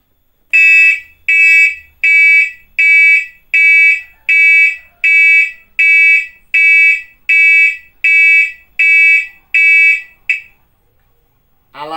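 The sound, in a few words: earthquake warning siren alarm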